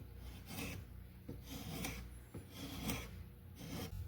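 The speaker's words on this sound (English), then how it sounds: "I'm going to work on that with some files and maybe a draw knife" Hand file rasping across a wooden axe handle being fitted, several back-and-forth rough strokes in an even rhythm, close and fairly quiet, with no talking.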